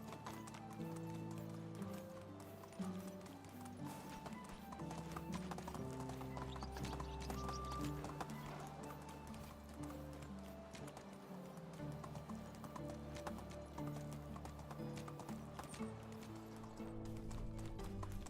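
Horse galloping in the medieval village-building game Medieval Dynasty: rapid, steady clip-clop of hooves throughout with a faint whinny, under quiet background music and occasional talk.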